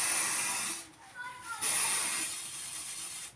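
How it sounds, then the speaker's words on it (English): Spray paint hisses loudly from an aerosol can through paper stencils in two long bursts separated by a short pause. Faint voices are heard during the gap. "When we spray paint, we need to make sure not to get any on the Velcro straps."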